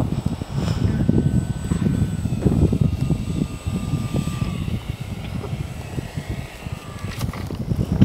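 An RC FT Baby Blender model plane's electric motor drones in flight as it loses power on a low battery, a thin steady whine mixed with gusty wind buffeting near the microphone.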